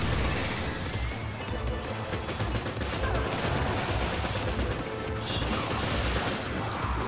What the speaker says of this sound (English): Oh, you got a machine gun.